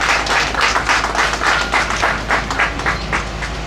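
An audience at an opening ceremony for an agency in Nikki claps together in dense, steady applause that keeps going throughout, loud and fairly close.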